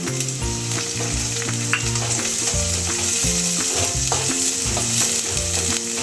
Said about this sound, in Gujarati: સરસ રીતે તળાઈ જાય એટલે આપણે એમાં કાંદા કાપેલા નાખવાના